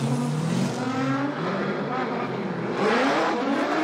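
A Nissan 350Z drift car on a wet track at a Formula Drift event in New Jersey roars with a sustained, loud engine note that rises and shifts in pitch, with commentary over it.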